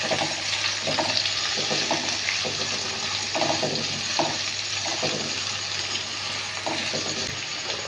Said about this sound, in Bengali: পেঁয়াজ কুচিটা দিয়ে একটু নেড়ে নেব।